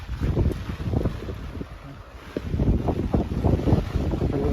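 Strong wind gusts on a rainy street buffet the microphone in heavy low rumbles, easing briefly midway before surging again, with no clear talk.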